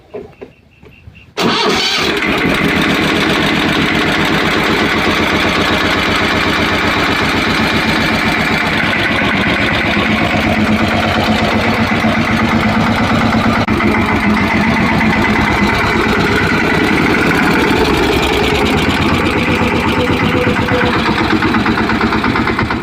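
A heavy tractor engine starts up after a brief quiet moment, then runs steadily and loudly with a low, chugging rumble throughout.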